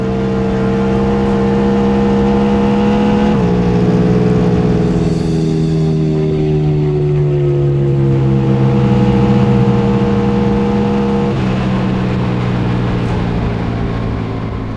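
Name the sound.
Indian Challenger race bagger motorcycle on a Bonneville run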